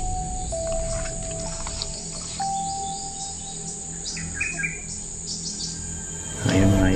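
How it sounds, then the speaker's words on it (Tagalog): Birds chirp and sing outdoors, with thin calls and a few whistled notes over a steady insect drone; a louder rustle near the end. "marami yung huni-huni ng mga ibon"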